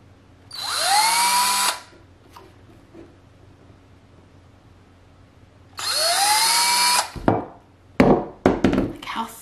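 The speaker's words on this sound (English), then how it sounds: "I'm going to do some more drilling because it's fun" A power drill drilling into a pumpkin whines in two long bursts, rising in pitch as it spins up, followed by clattering knocks and scraping.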